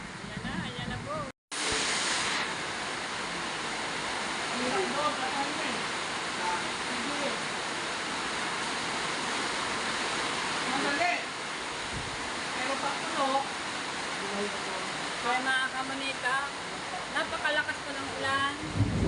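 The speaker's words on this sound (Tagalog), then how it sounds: "nang patak-patak po sa aming bubong ay ulan po yun" Dense, continuous rush of heavy rain pattering on a roof, a loud steady hiss throughout with a brief dropout near the start.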